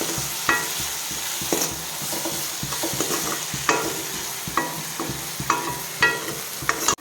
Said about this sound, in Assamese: এতিয়া ইয়াতে ধুনীয়াকৈ লৰাই দিম